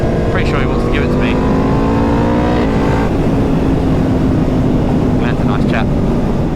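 Aprilia Factory (22 plate) with an aftermarket exhaust can and a KTM Super Duke with a stumpy aftermarket can, riding just ahead on a touring road: steady engine drone and revving under heavy wind rush, with a rider talking over it.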